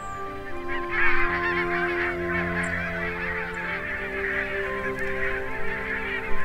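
Barnacle geese honk in Elbe marshland pasture, a dense continuous chorus of many overlapping nasal calls from a sizable flock, steady and moderately close with no talking.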